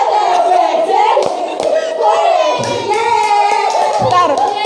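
A group of people claps a rhythmic cheer clap at a tutor meeting, a series of sharp, loud, patterned hand claps mixed with voices.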